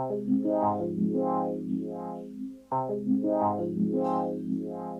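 A synth phrase processed with a lo-fi effect plugin preset has a muffled, wobbling character, its tone pulsing and swelling on each note, and plays twice through on its own.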